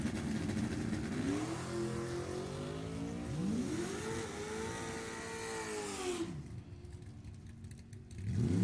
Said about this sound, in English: the 65 Mustang, 654